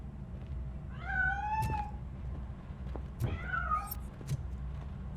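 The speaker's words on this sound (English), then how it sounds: "That cat must be hiding inside." A cat in the video game RoboCop: Rogue City gives two drawn-out, rising meows in quick succession while escaping, fairly close and clear over a low background rumble.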